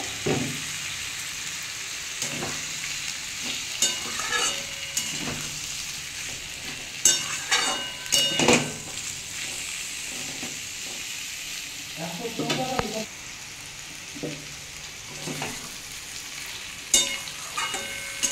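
Tomatoes with spices frying in a pan for a Bengali potato and pointed gourd fry, a steady close sizzle broken by repeated scraping stir strokes throughout.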